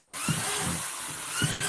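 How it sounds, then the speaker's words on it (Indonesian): A power drill bores holes into a container for household-waste compost, running steadily and loudly at close range with slight pitch dips as the bit bites, starting abruptly after a brief silence. "Kita buat lubang sebanyak mungkin. Ini kita gunakan bor ukuran"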